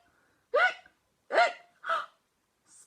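A voice imitates a cartoon shark hiccuping: three sharp, close hiccups about half a second apart, then a fainter fourth one, each with silence around it.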